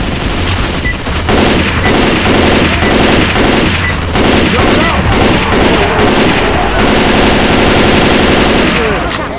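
Loud, sustained automatic gunfire from a survival round on The Parish bridge in the video game Left 4 Dead 2, dense bursts of rapid shots with heavy booms running almost without pause, faint voices beneath.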